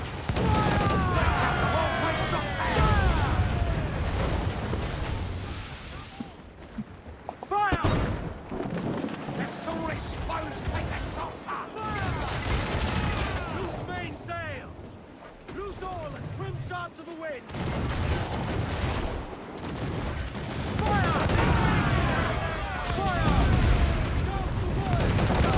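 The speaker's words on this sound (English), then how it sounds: "It's still shooting." Ship battle in Assassin's Creed Black Flag, with loud, continuous cannon fire, booming explosions and crackling gunfire rolling throughout and only brief dips in intensity.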